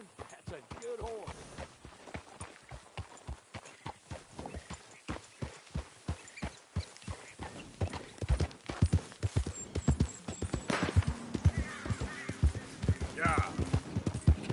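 Steady clip-clop of horse hooves walking at an even pace in Red Dead Redemption 2, up close, with voices talking over the rhythmic steps.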